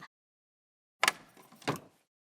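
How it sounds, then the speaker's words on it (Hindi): A front door being opened in a home, heard as two close, sharp clattering bursts of the latch and door after a silent pause, with no one talking. "आई अभी खोलती हूँ दरवाजा।"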